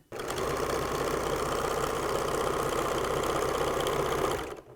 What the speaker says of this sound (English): Put your sewing machine in its down position